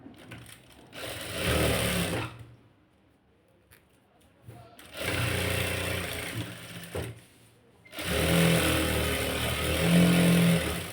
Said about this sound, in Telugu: ఇప్పుడు ఇక్కడ నుంచి స్టిచ్చింగ్ చేసుకుంటూ రావాలి